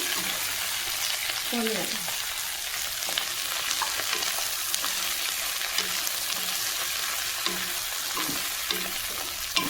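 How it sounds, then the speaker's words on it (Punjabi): Okra sizzles and fries in hot oil in a pan, a steady loud crackling hiss with occasional stirring scrapes and faint clinks throughout. "ਤੇਲ ਆਪਣਾ ਗਰਮ ਹੋ ਗਿਆ ਤੇ ਆਪਾਂ ਹੁਣ ਵਿੱਚ ਪਾ ਦਾਂਗੇ ਭਿੰਡੀਆਂ"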